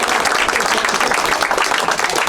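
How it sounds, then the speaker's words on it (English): Audience applause for the winner at a darts final, steady, dense clapping filling the room, loud and continuous with no voices heard. "Round of applause, Graeme Wilson, your winner."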